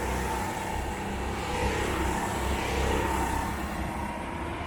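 A racing kart on a wet track at Le Luc karting circuit in the rain passes with a steady, fairly loud engine drone and wet road noise, with no voices.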